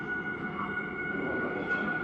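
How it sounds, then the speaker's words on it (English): A Warsaw metro train approaches an underground platform with a sustained rumbling drone and a steady high whine, holding an even, moderately loud level throughout. "Let's check out one of the upcoming trains."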